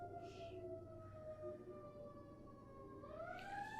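A faint, distant siren wails with a slowly falling pitch, then rises again near the end, over a quiet background.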